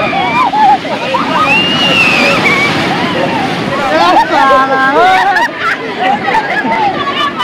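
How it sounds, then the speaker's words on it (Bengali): Big sea waves wash and slosh along the beach at Puri, a broad steady roar under a dense hubbub of crowd chatter and nearby voices throughout. "বড় ঢেউ আসছে, ঢেউগুলো ভালো বড় বড় আছে।"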